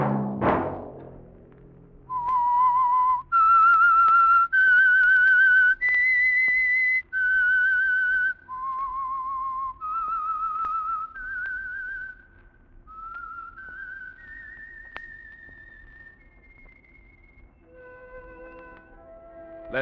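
A single person whistles the theme tune of The Whistler radio show, a slow eerie melody of sustained, clear notes stepping up and down, heard alone in a quiet setting.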